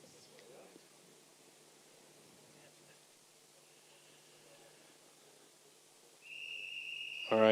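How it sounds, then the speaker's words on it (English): A loud, sustained whistle blast near the end of a quiet spell at a STIHL Timbersports German Pro Championship event, signaling the warning before the start, rising sharply out of soft crowd hubbub. "there's the whistle"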